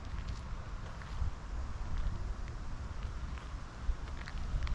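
Light wind blows outdoors on a partly cloudy morning, a steady low rumble buffeting the microphone with no talking, soft and continuous throughout.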